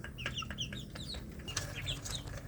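Village chicks cheep and cluck in a steady flurry of short chirps, close and moderately loud, several birds overlapping over a low background rumble.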